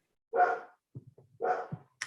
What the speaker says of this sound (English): Yes, that's my dog in the background.